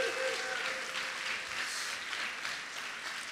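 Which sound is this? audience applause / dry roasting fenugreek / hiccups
audience applause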